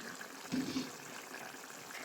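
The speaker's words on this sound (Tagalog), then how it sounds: "Ayan, kumukulo na." Sarciado sauce with galunggong fish boiling in a pan, a steady close bubbling and simmering hiss with a brief louder gurgle near the start, alone with no talk.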